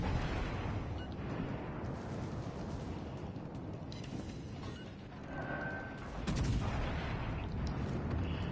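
Heavy naval guns booming in a console warship battle game on PS4, a continuous rumbling wash of cannon fire and distant blasts with a louder burst of fire near the end, with no voices.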